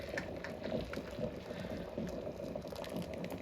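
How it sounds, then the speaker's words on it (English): Hot water poured out of a pot while making homemade apple sauce, a soft continuous splashing and gurgling stream, quiet and close. "Notice how I'm pouring the hot water out"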